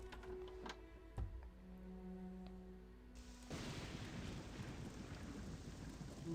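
Steady rainfall in the video game Morrowind, with a sharp thunder crack early on and the rain swelling into a louder, denser hiss midway through, no talking.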